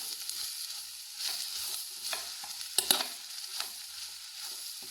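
A spatula stirs a bitter gourd stir-fry in a pan, giving soft sizzling and a few scraping strokes, with one sharper clink near the middle.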